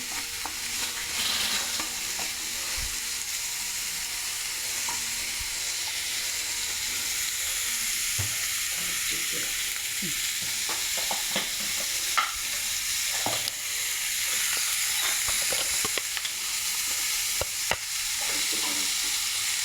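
Prawns frying in a pan for a Kerala prawn fry, stirred now and then, giving a constant loud sizzle and hiss with intermittent scraping clicks from the utensil, close up and without talk.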